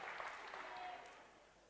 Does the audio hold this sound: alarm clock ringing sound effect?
no